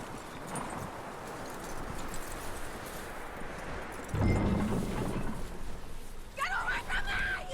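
Horse hooves clip-clop at a walking pace in the video game Red Dead Redemption 2. The hoofbeats sit under ambient noise and get louder for a moment, and a voice speaks briefly near the end.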